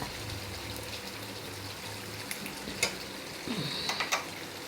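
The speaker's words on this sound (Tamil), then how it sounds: "பாருங்கள், அரிசி வடகம் பொரிச்சிட்டேன்." Rice vadagam frying in hot oil, a steady low sizzle with soft bubbling and a few sharper crackles and pops near the end, heard close and without talk.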